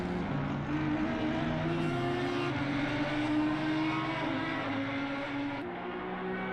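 Two Audi GT3 race cars on the Barcelona circuit in the Assetto Corsa Competizione racing game, their engines a loud, steady, droning roar with shifting pitch that runs without a break, and no one speaking.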